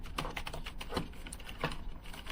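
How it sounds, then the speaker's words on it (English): Keys are tapped in a quick, steady run on a Rii RK100+ LED backlit wired keyboard with slightly clicky, non-mechanical keys, the clacks soft and close with no talking. "it's a little clicky, but it's not as loud as a mechanical keyboard."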